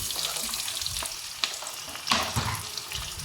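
Onions fry with butter in a pan, a soft steady sizzle broken by a few sharp clinks and stirring scrapes, close and unaccompanied by speech.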